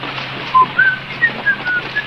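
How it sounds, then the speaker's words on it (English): A person whistles a short tune in a series of clear, brief notes, six or so in about two seconds, rising and falling in pitch, with a faint hum underneath. "If you have to whistle, keep on the tune."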